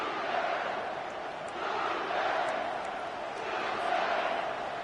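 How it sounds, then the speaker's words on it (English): A stadium crowd at a college football game between the Sooners and Buffaloes roars in sustained waves, rising and falling in loudness, with a faint voice briefly over the noise. "The roar of the crowd trying to fuel this defense to keep them pinned in their own end."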